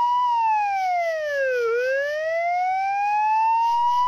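A police car siren wails steadily and loudly, its pitch sweeping down and back up in one long smooth cycle, heard alone without talk.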